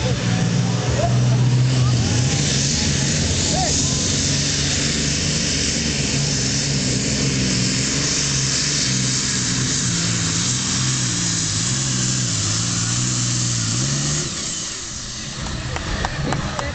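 A tractor-pulling tractor's heavy engine roars loudly and steadily at a 2009 Hollabrunn competition, 3.5-4.5 tonne class, its deep drone wavering in pitch, with a crowd or announcer voice beneath before it eases off near the end.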